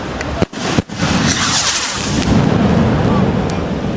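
Fireworks shell bursts at a New Year display in Boracéia, giving a few sharp booms followed by a sustained roaring crackle and rumble of explosions, loud and continuous, with voices of onlookers faintly mixed in.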